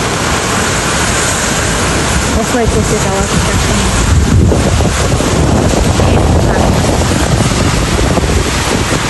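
Heavy rain and strong wind outdoors in Almaty make a steady, dense roar with gusts buffeting the microphone throughout, while a voice speaks briefly over it.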